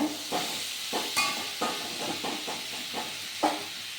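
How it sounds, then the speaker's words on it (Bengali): Cauliflower frying in a pan, a soft continuous sizzle broken by a regular series of stirring scrapes and clacks, fairly quiet and close. "দেখেন ফুলকপিটা সুন্দর করে ভাজা ভাজা হয়ে গেছে।"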